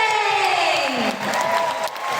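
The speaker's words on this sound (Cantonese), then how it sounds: "掌聲！" Concert crowd at the Hong Kong Coliseum applauding and cheering for the show, a broad roar of clapping and whoops with a voice sliding over the noise.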